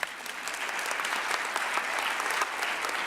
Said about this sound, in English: Let's applaud them right now.